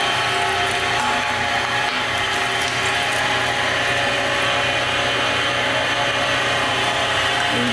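A meat grinder churns cold beef for pepperoni with a steady, loud mechanical whir and gritty grinding texture, running continuously up close with no talking.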